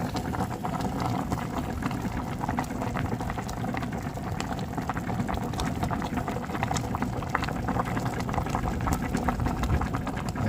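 A pot of paksiw fish in vinegar boils steadily at a full, continuous bubble, close and loud with no talk over it.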